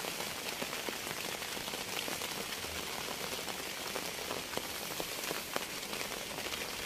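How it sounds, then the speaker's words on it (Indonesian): Steady rain falls in the rainy season, a dense continuous hiss of drops hitting surfaces with scattered louder patters, fairly faint and with no talk. "Dan ini cuacanya hujan, hujan terus."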